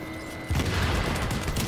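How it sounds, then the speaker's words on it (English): A grenade goes off in Tom Clancy's The Division, a sudden loud, broad blast that rolls into rumbling debris and crackle after a steady hum of game ambience. "I'm throwing a grenade in a 1v1."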